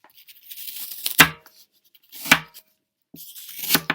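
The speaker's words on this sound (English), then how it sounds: "I'm going to go ahead and cut smaller pieces of foam" A blade slices through floral foam with three separate crunchy, tearing cuts spread across a few seconds. Each cut is close and crisp, with quiet gaps between them.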